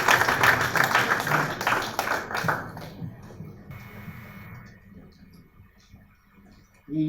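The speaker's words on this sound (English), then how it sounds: "Let's clap for Sangok as he comes." An audience claps for a guest at a church gathering, the dense broadband patter of many hands loudest at first and then thinning and fading over several seconds, with a brief burst returning at the very end.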